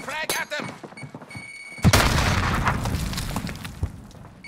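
A frag grenade in Call of Duty: Modern Warfare goes off partway through, a sudden loud blast followed by lingering rumble and scattered gunfire, with people talking before it.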